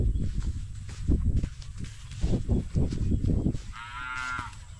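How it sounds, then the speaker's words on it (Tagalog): A water buffalo (carabao) on a rural farm in the Philippines lets out loud, drawn-out low moos that carry on for several seconds, with a brief higher tonal call near the end. "Kalabaw."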